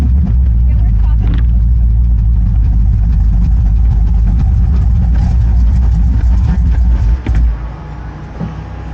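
A race car engine runs loud and heavy at a drag race, a thick low rumble held close up for several seconds before cutting off abruptly and leaving quieter surroundings.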